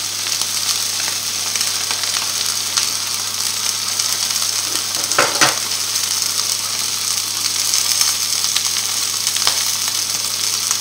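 Tournedos steak sears in a hot frying pan with a loud, steady sizzle and crackle that stays close and continuous throughout, with no talking.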